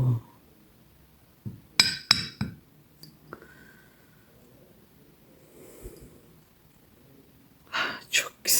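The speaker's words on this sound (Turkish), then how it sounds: "Fincanımı açıyorum sevgili dostlar." A porcelain coffee cup is turned up and handled for a Turkish coffee reading, giving a few sharp clinks and taps near the start and again at the end, with quiet breathing and soft handling between.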